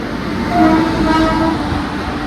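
The Ambala Cantt to Kalka train rumbles loudly and steadily at a station platform at night, with a faint horn-like tone and no speech.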